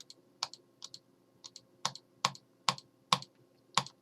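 A computer button or key is clicked repeatedly, about a dozen sharp, close clicks in an uneven rhythm, some paired, over a quiet background.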